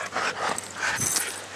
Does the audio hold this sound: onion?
no